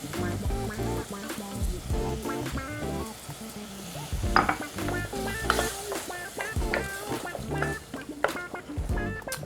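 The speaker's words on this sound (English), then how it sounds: "So we got a little simmer on the sauce." Ranchero sauce with chipotle pepper in adobo, cumin and salt bubbling and sizzling in a pan, a steady close crackle with some clinking of cookware, while a person talks over it.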